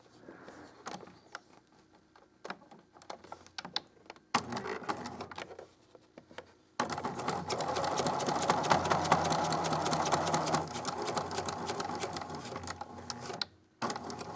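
A sewing machine stitches bias tape, first in short stop-start bursts and then in a longer steady run, ending with a brief pause and a restart.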